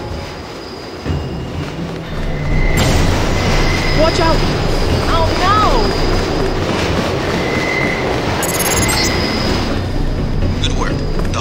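Subway-style train from Deus Ex Game of the Year in its New York level, a steady loud rumble and rolling clatter with faint squeals, running from the second second onward under a shouted voice.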